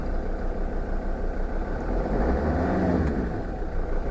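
A Mercedes Sprinter van's engine idles with a steady low rumble, then rises in pitch through a rev and falls back toward idle, heard close up.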